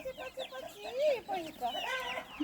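Young chicks on a farmyard cluck and cheep close by, a busy run of short, rising calls with one longer drawn-out note, steady over the whole stretch with no talking.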